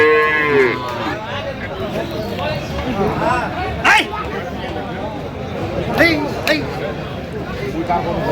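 Cattle moo amid a busy Dinajpur livestock market where Friesian and crossbred bulls and calves are sold, with people chattering throughout and a few sharp noises cutting through the steady background din.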